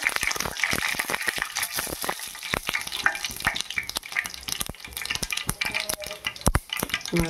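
Urad dal and mustard seeds fry in hot oil in a pan, crackling and popping densely and steadily throughout, close and fairly loud.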